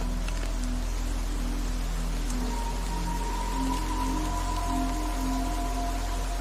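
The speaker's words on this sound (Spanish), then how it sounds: "Mira, ya está lloviendo" Rain falls as a steady, dense hiss of drops throughout, with faint tonal hums running underneath.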